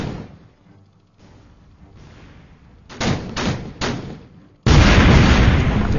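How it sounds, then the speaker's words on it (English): A naval gun turret fires at a hostile ship in the Victory at Sea video game: a few heavy booming blasts, followed by one loud, sustained roar of fire toward the end, with no talk. "With a gun selected, fire on the hostile ship."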